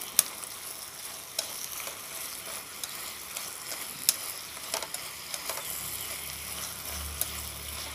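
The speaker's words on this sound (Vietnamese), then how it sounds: "mình chỉ xào sơ nó thôi" Fresh tofu skin stir-fried in sweet and sour sauce, a steady close sizzle and hiss with occasional clicks and scrapes of a utensil against the pan, continuing alone without talk.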